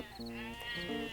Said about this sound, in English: the distant bleat of his sleepy sheep